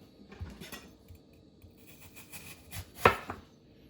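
A knife cutting peeled, cored apples into slices on a board, heard as faint, scattered soft chops and one sharper knock near the end, close and quiet with no talking.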